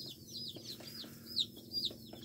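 Chicks chirp and cheep in quick high-pitched bursts over soft, low clucking in a chicken coop, fairly quiet and close.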